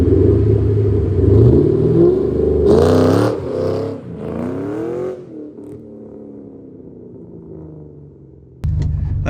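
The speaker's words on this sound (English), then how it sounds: "another burnout." A Ford Mustang doing a burnout revs hard in loud, rising and falling surges, then settles into a lower rumbling idle before a sudden loud burst at the end.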